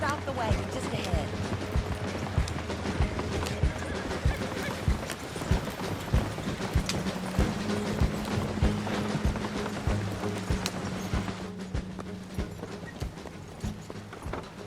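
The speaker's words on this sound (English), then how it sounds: "Stop the wagon just ahead." A horse-drawn wagon rolls along with steady clip-clopping hooves and faint creaking mechanisms, continuous throughout, while people talk over it.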